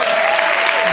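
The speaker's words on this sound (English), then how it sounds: "Give him a round of applause" A crowd clapping in steady applause, dense and continuous for a brief moment.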